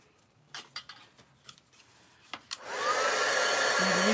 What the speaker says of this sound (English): I'm using my heat tool to get rid of some of the glue strings.